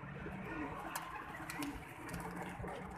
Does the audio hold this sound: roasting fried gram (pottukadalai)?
no